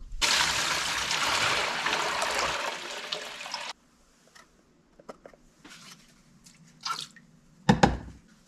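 Water pours steadily from a container into a gold pan for a gold clean-up, with a loud continuous splash for about four seconds. It stops abruptly, and scattered faint drips and small handling clatters follow.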